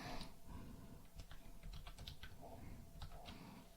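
Quiet keyboard typing in a computer tutorial setting, a scattered series of light key clicks with brief pauses between them and no talking.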